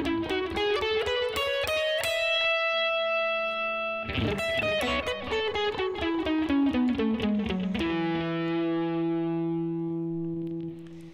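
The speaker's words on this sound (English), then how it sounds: "Let me use the distortion." Electric guitar with heavy distortion plays a scale run of sustained, ringing notes in steady succession, loud and close, with no talking.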